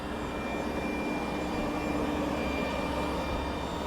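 A Boeing 737 Classic's jet engines drone in a steady, loud broadband roar with faint whining tones, heard close up around a clamshell-type thrust reverser, with no voices.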